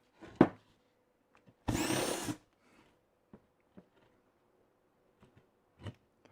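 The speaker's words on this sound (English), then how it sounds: "If we come in from the back with the countersink," A hand countersink is turned from the back of a drilled hole in wood to clean off the burrs. A single short rasping grind stands out among quiet, scattered knocks and taps, with near silence between them.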